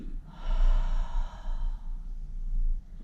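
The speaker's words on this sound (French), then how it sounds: "J'inspire et j'expire." A person breathes deeply during an abdominal strengthening exercise: an audible, breathy, slightly voiced exhale up close, followed by quieter breathing, with no talking.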